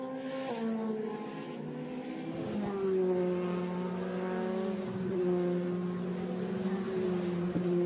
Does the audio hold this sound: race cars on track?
yes